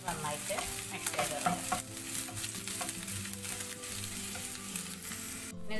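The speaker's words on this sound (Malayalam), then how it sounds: "സവാളൊന്ന് വാടി നിറം മാറി വരുമ്പോൾ ഒരു സ്പൂൺ ഇഞ്ചി വെളുത്തുള്ളി ചതച്ചതിട്ട് നന്നായിട്ട് മിക്സ് ചെയ്ത്" Onion frying in a pan with crushed ginger and garlic is stirred by spoon, giving a steady sizzle with repeated scraping strokes, close and fairly loud throughout, no voices.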